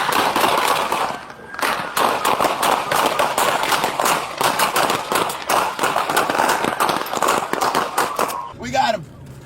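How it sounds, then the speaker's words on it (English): Rapid, dense bursts of gunfire between a suspect with a handgun and police officers during a foot pursuit, loud and nearly continuous, with shouting and voices mixed in and a brief yell near the end. "the suspect pulled out a handgun and opened fire on the pursuing officers. Officers returned fire."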